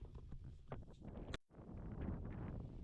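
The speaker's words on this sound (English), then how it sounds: "The wind is absolutely horrendous." Strong wind buffeting the microphone at the Cyrus Dam freshwater reservoir in Cyprus, a loud, continuous roaring rumble with gusty surges and one brief dropout partway through.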